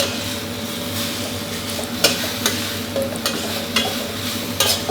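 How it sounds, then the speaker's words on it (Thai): Pickled bamboo shoots with minced pork, holy basil and kaffir lime leaves are stir-fried in a pan, a steady loud sizzle broken by repeated sharp scrapes and clinks of a spatula against metal. "ผัดให้ใบกะเพราใบมะกรูดโดยความร้อนแล้วส่งกลิ่นหอมดีเลยนะครับ"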